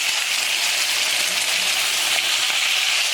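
Chicken sizzling steadily in a hot pan for lemon garlic roast chicken, a loud, even crackle and hiss with no breaks and no talking.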